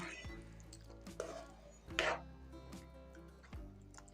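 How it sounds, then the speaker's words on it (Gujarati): Moong beans being stirred in a pan, with a few spoon knocks and scrapes against the pan, one louder scrape in the middle, over a steady low hum. "હવે મગને આપણે અંદર સરસ રીતના હલાવી અને મિક્સ કરી લેશું"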